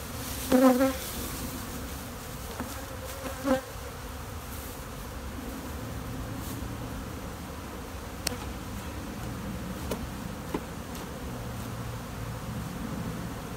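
Robber bees swarm a beehive during a late-season honey harvest, a steady insect buzz and hum filling the whole stretch with a few brief louder knocks near the start.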